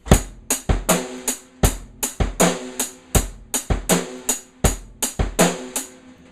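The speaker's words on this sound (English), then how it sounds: "now a basic drum beat might sound something like this" A simple drum kit groove with steady kick and snare hits under a ticking hi-hat, even and unhurried, played alone at close range.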